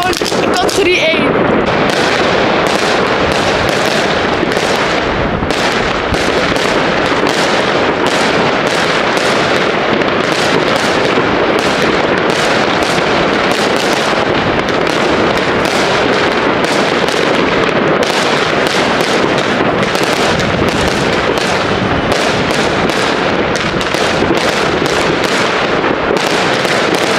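Category 1 consumer fireworks set off on New Year's Eve, with a dense, loud, continuous barrage of crackling bangs and pops lasting throughout, sounding close and relentless.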